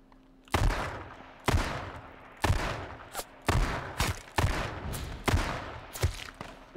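Gunfire rings out in a first-person video game, likely from a Magnum: about eight sharp shots spaced roughly a second apart, each with a short decaying tail.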